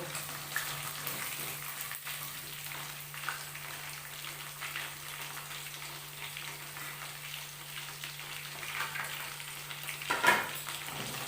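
Fish pieces fry in hot oil for chilli fish, a continuous crackling sizzle with a low steady hum underneath and a brief clatter toward the end; no one speaks.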